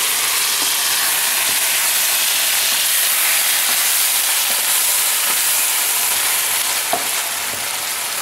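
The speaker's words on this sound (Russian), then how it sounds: "Это помешаю еще быстренько." Meat sauce for spaghetti Bolognese fries in a pan and is stirred, giving a steady, close, loud sizzle with faint scraping strokes throughout and no talking.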